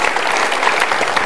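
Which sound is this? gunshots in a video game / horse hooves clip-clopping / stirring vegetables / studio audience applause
studio audience applause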